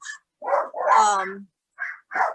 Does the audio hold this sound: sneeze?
no